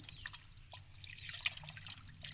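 Katla fish pieces, cut large, are being rinsed in water in a village kitchen, giving soft scattered drips and small splashes over a low steady hum, with no talking.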